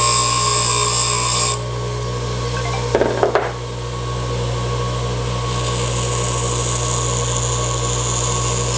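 A small power tool grinds a burr off a part for an Ender 3 Pro 3D printer's second Z-axis kit, one short rasping burst of about half a second over a steady background hum.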